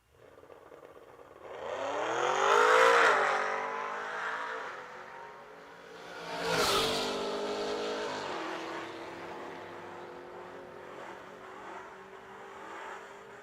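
Two Chevy Camaros at a drag strip, an 89 and a late-model, launch off the line with a loud rising engine roar that sweeps up, eases, then surges again as the cars pull away down the track.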